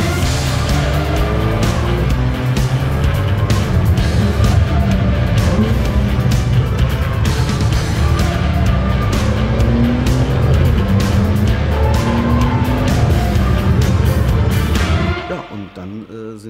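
A Brabus Rocket R supercar roars up an Alpine mountain pass, its engine loud and close as revs climb and fall through gear changes and tires squeal in the curves, before the sound drops away abruptly at the end.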